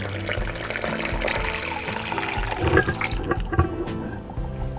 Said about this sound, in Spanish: enseguida agregamos 3 tazas de leche bien caliente